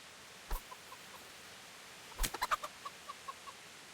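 Chickens in the medieval game Kingdom Come Deliverance give a sharp squawk, then a quick run of soft clucks tapering off at a moderate distance.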